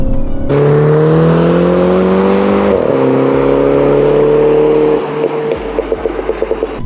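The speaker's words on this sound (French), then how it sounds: "à chaque fois qu'on passe le rapport, il y a un gros pop" A loud Mini John Cooper Works (231 hp) revving hard through gears, the tone dropping at each shift with a sharp crackle, then a burst of rapid exhaust pops near the end.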